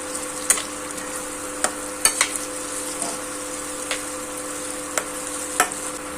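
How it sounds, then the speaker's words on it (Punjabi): Tomatoes cooking in a pan for spicy curd bhindi, giving a steady low sizzle broken by sharp spoon clicks and scrapes against the pan at irregular intervals, with no voices. "ਟਮਾਟਰ ਨੂੰ 2-3 ਮਿੰਟ ਲਈ ਪਕਾਵਾਂਗੇ"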